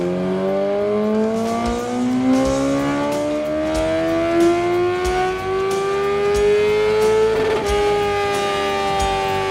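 A motorcycle engine held at full throttle on a dyno, one loud continuous pull with pitch climbing steadily over about ten seconds, close and alone with no talking.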